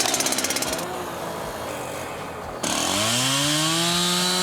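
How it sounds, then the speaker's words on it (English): A chainsaw buzzes through a tree, sputtering at first, then revving up into a loud, sustained high whine as it cuts. "It's down to Bryn, the sawman now, to have a little mess about with the chainsaw."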